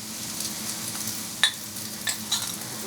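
Chicken breasts sear in a hot pan with a steady low sizzle, broken by a few sharp clicks and scrapes of a utensil pushing the meat aside.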